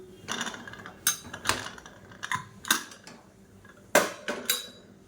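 Spoon scraping and clinking through ghee rice in a pan, lifting it from the bottom up, in a run of separate metallic strokes, fairly close and with no talk.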